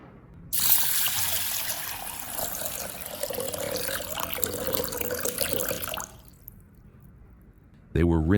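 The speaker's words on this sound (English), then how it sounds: "They were rinsed thoroughly under clean water, then soaked for about 60 minutes." Mung beans rinsed under running tap water, a steady broadband rush of water into a sink lasting several seconds before cutting off, with a short voice at the end.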